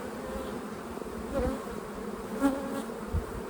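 Honeybees buzz around an opened hive colony during frame inspection, a steady close hum with a few louder passes as individual bees fly near.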